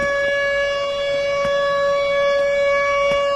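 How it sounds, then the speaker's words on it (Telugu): A steady, piercing emergency siren holds one sustained wailing tone without pause, loud and continuous, with a few faint clicks underneath. "ఈ సైరన్ ఎమర్జెన్సీ కోసం వాడతారు."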